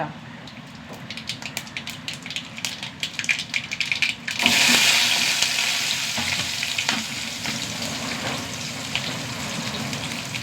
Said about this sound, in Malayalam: കുറച്ച് വെളിച്ചെണ്ണ ഒഴിച്ചു കൊടുക്ക് ചൂടാവട്ടെ വെളിച്ചെണ്ണ കുറച്ച് കടുക് നാലല്ലി വെളുത്തുള്ളിയും കുറച്ച് ചെറിയ ഉള്ളി